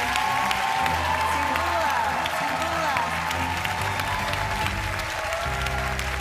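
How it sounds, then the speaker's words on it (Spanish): A talent show audience gives loud, sustained applause with some cheering, a dense, even roar of clapping that fills the whole stretch. "Más fuerte el aplauso para Axel y José, su profesor."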